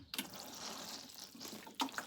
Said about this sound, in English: I'm going to water it in.